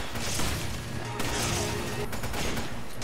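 Gunfire in the Resident Evil 5 video game: dense, rapid bursts of shots and impacts packed together over three seconds, loud and continuous, with game sound effects layered in.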